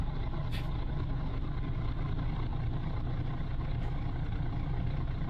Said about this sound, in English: Now listen to that engine right there, man.